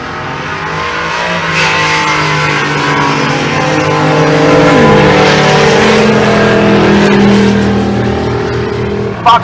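Drag race cars, including a Fox Mustang, run down the strip at a race-week event in Pueblo, Colorado, a loud sustained engine roar that swells and shifts pitch as they pass, with a brief sharp sound at the very end.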